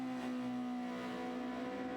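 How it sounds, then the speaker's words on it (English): Super Formula SF23 race cars at Monza scream past with a loud, sustained high-revving engine note, steady and close, with no talk over it. "Beautiful sound out of the SF23s as they race past our static cameras."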